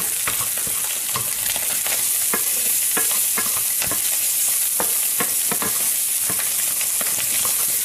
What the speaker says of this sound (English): get back to stirring, because if you have a non-stick pan, it won't stick like it's doing here